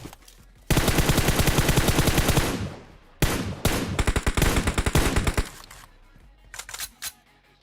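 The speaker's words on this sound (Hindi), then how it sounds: "अभी भी नीचे स्कूल की तरफ से दबा के गोलियां चल रही है" Loud, rapid bursts of machine gun fire in a video game, a long sustained volley, then a pause and several more bursts tapering into scattered shots.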